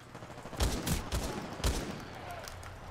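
Rapid automatic gunfire in the shooter video game Titanfall 2, several punchy close shots in a quick burst over about three seconds, set against a steady game background hum.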